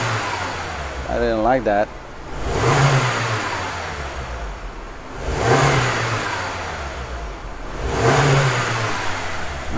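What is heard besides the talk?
2014 Mini Cooper S engine revving on snap throttle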